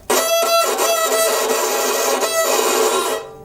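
A violin bowed with too much pressure, giving a harsh, scratchy, grinding note that holds for about three seconds before cutting off.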